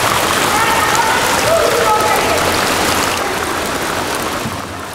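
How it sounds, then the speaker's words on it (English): Water seeps through the limestone at Tonto Natural Bridge and falls as a steady shower of dripping, a dense hiss that stays constant and loud and fades a little toward the end. "Moisture seeping through the limestone creates a constant rain in this particular area."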